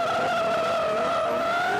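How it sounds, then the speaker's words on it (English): Ole Peter Vatn's drift car launches off the start line during Drift Masters qualifying in Spain, its tyres squealing in a loud, sustained high whine over the engine's roar as it climbs through the gears, with no talk. "Tyre squealing as he hammers off the line and through the gears"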